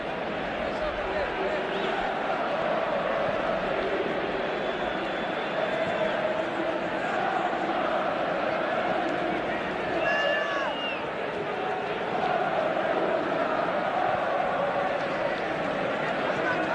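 Dense stadium crowd at a Real Madrid vs Atletico Madrid Super Cup football match, a continuous broad roar of indignant voices that stays loud and unbroken, with faint calls rising out of the mass.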